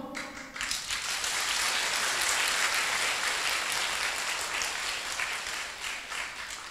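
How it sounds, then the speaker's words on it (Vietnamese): An audience at a Vietnamese Buddhist dharma talk breaks into applause, a dense, even wash of clapping that swells quickly and holds steady for several seconds. "Vỗ tay chút hết giảng."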